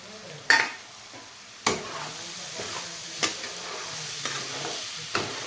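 Veg pulao with pav bhaji masala is sautéed in a pan: a soft, steady sizzle runs beneath several sharp scrapes and knocks of a spoon against the pan, spaced about a second apart.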